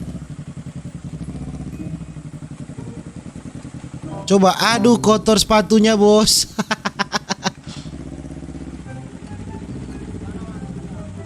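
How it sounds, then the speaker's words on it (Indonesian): A motorcycle revs and accelerates past on a muddy off-road track, its engine rising sharply then fading in stuttering bursts, with a car engine idling underneath and people talking. "Oh, ada pengendara motor."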